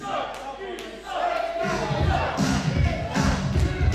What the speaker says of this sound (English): Clap your hands together. And cheer as loud as you can